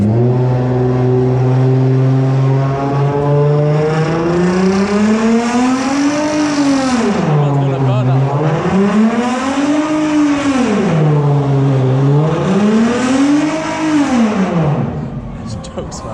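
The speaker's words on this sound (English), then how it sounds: "He's loving that rev limiter" A car engine hammers against its rev limiter on a Tokyo street in Shibuya, loud and close, its pitch climbing and dropping in repeated surges for the whole stretch.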